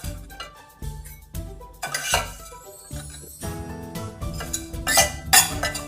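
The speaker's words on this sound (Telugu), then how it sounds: "ఇలా వచ్చిన తర్వాత గిన్నెలోకి మార్చుకుందామండి మనం." Ghee-fried vermicelli is scraped from a pan into a bowl with a metal utensil, making a series of bright clinks and knocks of metal on metal at varying loudness.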